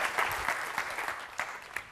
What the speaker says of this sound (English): A round of applause for Sarah, please.